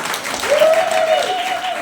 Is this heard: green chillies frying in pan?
no